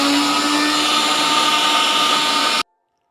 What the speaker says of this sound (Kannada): ಇಷ್ಟನ್ನು ಹಾಕ್ಕೊಂಡು ನೀಟಾಗಿ ಗ್ರೈಂಡ್ ಮಾಡ್ಕೊಂಡು ಬರೋಣ.